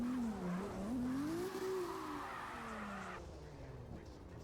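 A drift car on a competition run squeals its tires in a long, loud, wavering skid with engine noise underneath, fading away toward the end.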